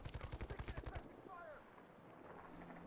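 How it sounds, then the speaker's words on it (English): Burst of automatic gunfire in Warzone 3, a quick run of about a dozen evenly spaced loud shots that cuts off abruptly, leaving wind-like ambience. "Notice shots to our left-hand side"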